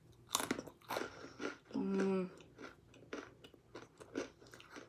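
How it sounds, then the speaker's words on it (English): Close, crunchy chewing of an animal cracker with several crisp bites and rhythmic munching, with a short hum or vocal sound in the middle. "I love the crunching sound it makes in my mouth."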